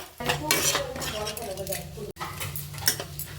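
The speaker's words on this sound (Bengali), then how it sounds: "এবার এটাকে আমি নাড়াচাড়া করবো এইভাবে" Vegetables with turmeric are stirred in a pan while making pasta, a close metal spoon scraping and clinking against the pan in quick repeated strokes, with a brief break partway through and faint voice underneath.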